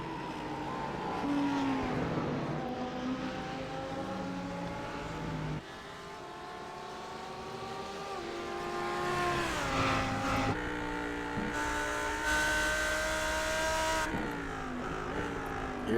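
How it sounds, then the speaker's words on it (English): GTE-class race cars lap Mosport in a sim racing game, engines howling continuously as they rise and fall through gear changes and corners, several cars overlapping close together with no talk. "We are with Andrew Rasmussen running 2nd in class in the GTE cars."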